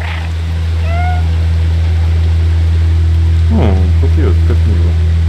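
A cat meows in the video game Stray: a few short, high mewing calls early on, then a quicker burst of chirpy meows near the end, all over a steady low electrical hum.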